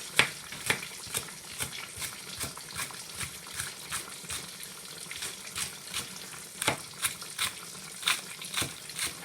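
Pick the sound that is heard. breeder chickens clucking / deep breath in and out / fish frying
fish frying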